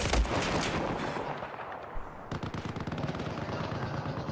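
Battlefield 4 video game gunfire: a loud burst of weapon fire, then rapid repeated automatic shots rattling continuously through the rest of the clip, with no talking.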